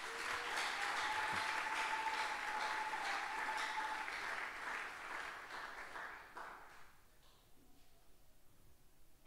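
A church congregation applauds during a worship service, steady and full for about six seconds before the clapping thins out and fades to near quiet.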